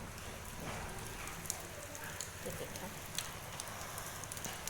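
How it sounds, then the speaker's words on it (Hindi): Light rain falling steadily outdoors, a soft continuous patter with scattered drop ticks, fairly faint, with someone briefly speaking over it. "बारिश आ रही है"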